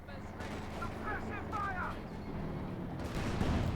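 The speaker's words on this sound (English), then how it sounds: "Anti-tank grenade off." Battle noise from the video game Company of Heroes 2, with gunfire and an anti-tank grenade: a dense, continuous wash of shots and blasts, moderately loud and without a break.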